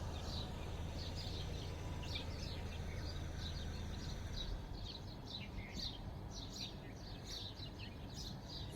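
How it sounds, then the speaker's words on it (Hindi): Birds chirp in the early morning in quick, scattered high calls that repeat throughout, faint over a steady low background hum. "चिड़ियों की चहचहाहट की आपको आवाज़ आ रही होगी"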